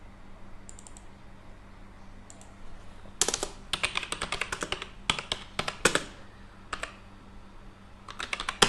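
Steady typing on a computer keyboard, bursts of quick clicking keystrokes with short pauses between, close and fairly quiet over a low background hum.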